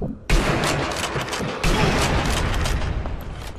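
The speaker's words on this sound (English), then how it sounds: "You keep the dynamite on the ground and you can shoot it." Rapid bursts of gunfire and explosive blasts from shot dynamite in the Sniper Elite V2 video game, a dense, loud barrage that starts abruptly and continues with a second surge.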